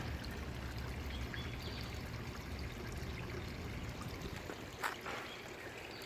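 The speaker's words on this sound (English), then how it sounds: "Then flows along the stream back into the pond." A small garden stream runs steadily back into a pond, a continuous close burble and trickle with a low rumble and a brief knock near the end, no talking.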